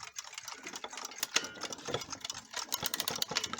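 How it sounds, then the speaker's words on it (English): The dial of a windup alarm clock from a clock collection being spun, giving a rapid run of dense mechanical clicks and whirring ticks, close and fairly faint, with no talk. "I'm just going to spin the dial"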